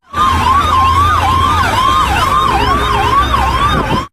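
An ambulance siren wails loud and close, its rising and falling sweeps repeating continuously with a low engine rumble beneath and no talking.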